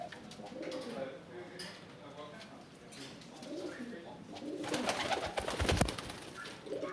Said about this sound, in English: Our main patients are pigeons,